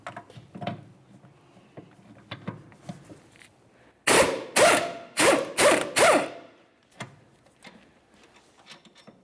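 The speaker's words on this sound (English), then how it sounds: "Let's loosen that bolt." A ratchet works loose the 17mm rear strut bolt on a 2003-2007 Honda Accord, five loud close clicking bursts in quick succession, between quieter tool taps and handling noises before and after.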